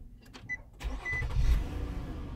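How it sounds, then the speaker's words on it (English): A 2013 Nissan Murano starts up: a short crank swells into a steady engine rumble that settles into idle, heard close by with no talking. "Car turns on."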